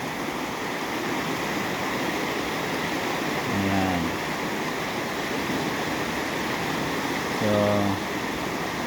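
A river in Perez, Calauan, Laguna flows with a constant broad rushing wash of water. Two brief engine-like tonal passes surface faintly over it.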